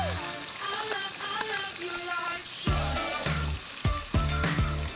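Shredded cabbage topped with pizza cheese sizzling in a pan over low heat, a steady crackling hiss with scraping and stirring clatter, no talk.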